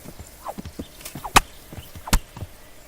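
Horse hooves in the Kingdom Come: Deliverance video game, a sparse series of distinct clip-clop hoof strikes with two sharper loud impacts, close and alone without talk.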